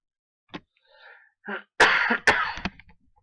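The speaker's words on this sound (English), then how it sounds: "I'm about to have a coughing fit" A few soft throaty sounds, then two loud, harsh coughs in quick succession followed by smaller sputtering bursts, close to the listener.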